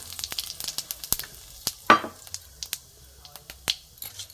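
Cumin seeds and a dried chili hit hot mustard oil in a wok, giving sharp crackles and pops over a faint sizzle, with one louder burst of spitting oil in the middle.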